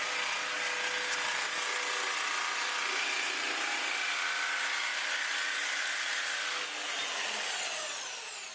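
A Bosch GST jigsaw cuts through thick aluminium, giving a steady, loud, high-pitched buzzing rasp that holds for several seconds before easing slightly near the end.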